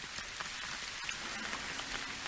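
A rain shower in Real VR Fishing, at a Japanese location, hisses steadily and densely, with an even wash of falling drops and no talking.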